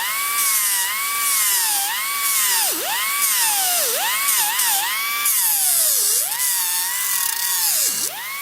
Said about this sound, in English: I'll take these off now and just sand and round some corners off